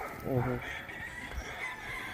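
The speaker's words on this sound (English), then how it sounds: "That's all young yellow leg chickens." Young yellow-legged chickens on a farm, with a rooster crowing once early on, fairly close, over a steady background hum, followed by softer clucking and barnyard noise.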